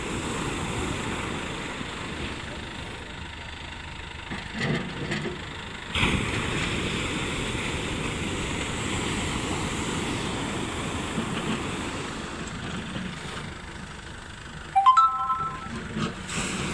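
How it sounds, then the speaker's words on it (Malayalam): Sea surf and strong wind roar steadily along a fishing beach where a boat is being hauled ashore, with a few louder gusts and bursts. "നല്ല തിരട്ടാ, അന്ന് ഭയങ്കര കാറ്റും ഇതൊക്കെയാണ് ഇവിടെ"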